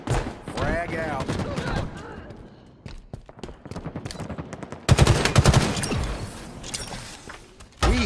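Rapid bursts of gunfire and sharp weapon shots from a Halo Infinite ranked Team Arena Oddball match on the Streets map, dense and close, mixed with game effects and a voice speaking over the action.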